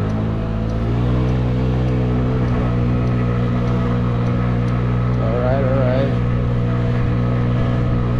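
A modified Honda Ruckus scooter engine, upgraded for speed and acceleration, climbs a hill with a steady, loud, close drone that holds level throughout, a brief wavering rise in pitch partway through.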